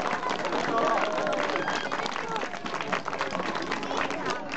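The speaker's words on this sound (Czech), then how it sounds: "A já vás poprosím o velký potlesk pro tuto kategorii." A crowd at a Czech cycling race awards ceremony bursts into loud, sustained applause, dense clapping mixed with cheering and babble filling the whole short stretch.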